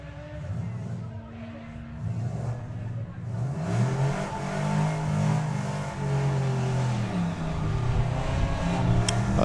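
At a sportsman nationals drag racing meet, cars including an Audi A3 accelerate down the strip. Engine roar builds steadily from a moderate drone into a loud, sustained revving with rising pitch sweeps, heard from the spectator side.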